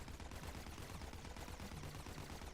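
Buckshot gunfire in the video game Rocket Rats, a dense continuous barrage of overlapping blasts with no pause, loud and close throughout.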